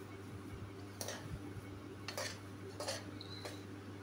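A spoon stirs spices into potato curry with a few distinct metallic scrapes and clinks against the pot, spaced about a second apart over a low steady hum.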